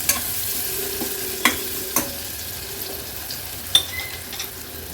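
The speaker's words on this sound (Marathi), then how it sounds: "कांदा तेलावर व्यवस्थित आपल्याला शिजवून घ्यायचा आहे।" Small onions fry gently in oil over a low-to-medium flame, a soft, quiet sizzle with a few sharp clicks of a spoon against the pan.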